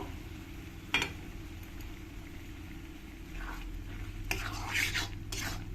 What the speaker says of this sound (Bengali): দিয়ে ভালো করে মশলার সঙ্গে মিশিয়ে নিতে হবে মিশিয়ে নিয়ে আমি মশলাটাকে ভালো করে কিছুক্ষণ কষিয়ে নেব